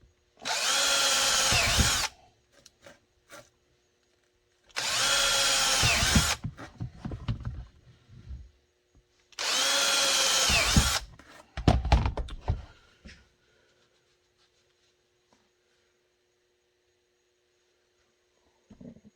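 Three loud bursts of a power drill drilling holes for a holster, each about two seconds, separated by pauses filled with clunks and handling noises, then quiet.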